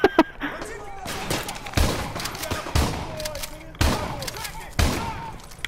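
Gunfire rings out in Call of Duty, a World War 3 themed shooter, in loud, close bursts of rapid shots. Heavy thumps repeat roughly once a second, and a voice talks over part of the fire.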